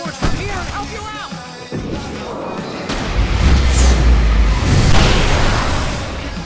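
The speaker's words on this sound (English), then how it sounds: "I can set off more of the fireworks from here and help you out!" Fireworks bursting during a fight in Alan Wake Remastered on PS5 Pro, heavy booming blasts and crackling rumble building into a sustained loud roar, with brief voices at the start.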